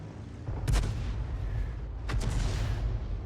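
Artillery gun in a tank video game firing, two sharp booms about a second and a half apart over a steady low background rumble, no talk.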